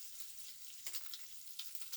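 Bacon frying in a pan gives a close, steady, high-pitched sizzle with a couple of brighter crackling bursts, quiet and alone with no talking.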